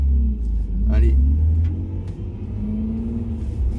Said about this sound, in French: le moteur il chauffe, c'est bien